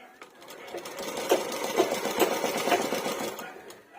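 Sewing machine stitching a blouse alteration, a close rapid mechanical chatter with a few pauses and restarts, running under someone talking.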